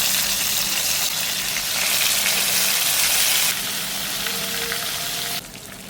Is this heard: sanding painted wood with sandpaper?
no